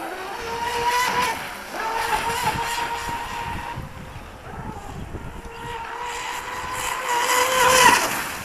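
A fast electric RC boat with a brushless outboard motor buzzes past in repeated high-pitched passes, its whine rising and falling in pitch as it approaches and recedes, with wind noise on the microphone.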